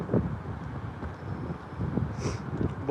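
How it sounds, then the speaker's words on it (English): Strong outdoor wind in England buffeting the microphone, a steady rough roar with low rumble throughout, no clear voice. "it's really windy"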